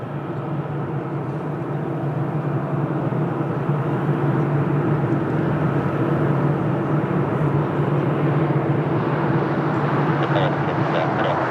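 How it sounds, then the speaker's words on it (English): An EasyJet Airbus A320neo arriving from Barcelona on short final at Lisbon Airport gives off a steady, broad jet roar that holds throughout and swells slightly toward the end, with voices talking under it. "We have EasyJet on short final from Barcelona with Airbus A320neo."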